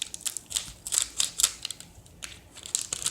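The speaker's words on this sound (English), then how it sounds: "I'm using scissors" Scissors snipping open a Barbie surprise package, a series of close, crisp cuts and plastic rustles at an uneven pace, with no talking.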